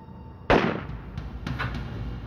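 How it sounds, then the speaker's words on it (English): A single gunshot sound effect cracks out abruptly, loud and close, then fades into a reverberant tail, followed a second later by a fainter thud. "And then he heard a gunshot."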